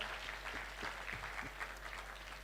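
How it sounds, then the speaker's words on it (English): A graduation audience at a Kampala high school gives a round of applause for an honoured guest, producing a continuous, fairly quiet patter of many clapping hands with a few sharper individual claps standing out. "Please, can we give a round of applause for Mr. Mahmoud Fozilov?"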